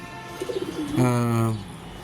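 A racing pigeon coos softly, a short burbling call followed by a longer, deeper rolling coo, close by and without talk.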